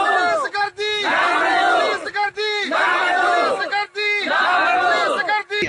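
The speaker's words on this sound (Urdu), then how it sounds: "احتجاجی مظاہرہ کیا اور نعرے بازی کی" Protesters in Ghotki district, Sindh, chant slogans in unison against a local landlord and the police. The crowd roars loudly and rhythmically in repeated bursts with short pauses between them.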